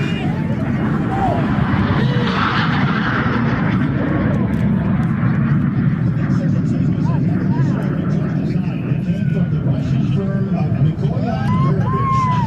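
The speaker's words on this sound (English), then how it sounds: "Jason Soames makes his first pass today in the magnificent MiG-17" A MiG-17 jet fighter makes a pass at an airshow, a loud, steady roar of engine noise holding throughout with crowd babble underneath.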